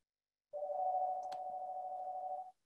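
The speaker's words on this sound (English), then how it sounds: "Sorry for the phone ringing in the back." A telephone rings in the background as a single steady electronic tone that lasts about two seconds, then stops. The room around it is otherwise quiet, with no talk.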